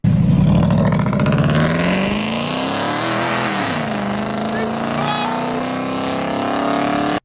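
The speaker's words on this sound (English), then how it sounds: "if you take off muzzler and resonator delete, so this is what it probably sounded like." A Ford F-150 exhaust with muffler and resonator deleted, a loud, raspy engine drone that climbs steadily in pitch as it revs and accelerates, close and continuous, with a voice talking briefly over it.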